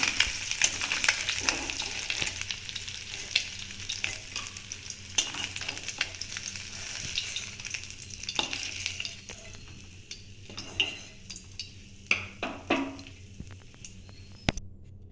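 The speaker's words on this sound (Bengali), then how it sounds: "দেখো, মাছগুলো আমার ভাজা হয়ে গেছে।" Small mourala fish fry in oil, a steady crackling sizzle running throughout with sharper pops and occasional clicks of a spatula toward the end.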